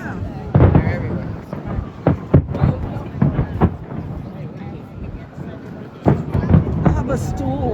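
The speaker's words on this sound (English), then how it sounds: "Fireworks everywhere. Look, you can see them in the background." Fireworks burst in the background, several dull booms and crackles in two clusters near the start and near the end, heard under people talking.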